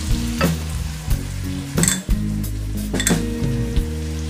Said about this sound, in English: Just fry this for 3 to 4 minutes.